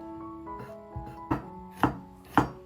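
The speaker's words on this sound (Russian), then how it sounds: "Нарезаю колечками острый перец." A knife slicing hot peppers into rings on a cutting board, a few steady thuds that grow firmer and more distinct, spaced about half a second apart.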